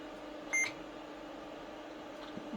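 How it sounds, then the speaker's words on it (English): A short, high-pitched power-on self-test beep from a Gateway 2000 4DX2-66V 486 computer, a single tone sounding once over steady fan hum. "Very high-pitched post beep"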